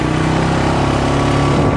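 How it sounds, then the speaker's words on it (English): An ATV engine, a Polaris or Honda Rancher out mudding, revs loud and close in a steady, continuous drone with a rich, buzzy tone that holds throughout with no pauses and no voices. "You hear how it's revving up again"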